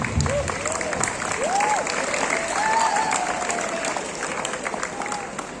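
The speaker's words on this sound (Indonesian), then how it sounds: "Tepuk tangan" A large gathering of students and staff at a Pancasila Sanctity Day ceremony at a Jakarta state senior high school applauds in a dense, sustained roar of clapping, with voices calling and cheering over it throughout.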